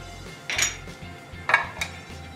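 A utensil stirring cabbage roll filling in a bowl, with olive oil, black pepper, chili flakes and mint mixed in: a few soft, close scraping clinks spaced over two seconds against a quiet background.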